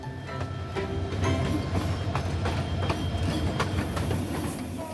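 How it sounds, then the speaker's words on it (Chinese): The Lalmoni Express, running from Kamalapur station in Dhaka toward Gaibandha in northern Bangladesh, rolls along with a steady rumble, rhythmic wheel clicks over rail joints and occasional sharp metallic clacks, close and continuous without talk. "拉莫尼特快车衔接达卡和孟加拉北部边界。"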